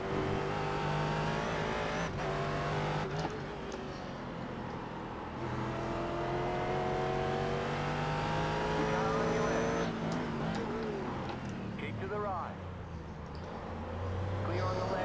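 Corvette race cars roar around a circuit in the iRacing sim, engines held at high revs with shifts and pitch sweeps as cars pass close, a steady loud drone throughout, with a voice talking at times.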